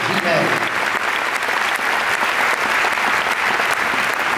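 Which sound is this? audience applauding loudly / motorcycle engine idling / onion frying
audience applauding loudly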